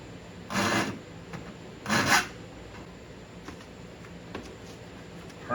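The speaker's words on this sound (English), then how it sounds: "I'm just gonna try gently filing a little." A chainsaw file is drawn gently across a small wire in two short rasping strokes close to the mic, followed by a few faint scrapes and taps.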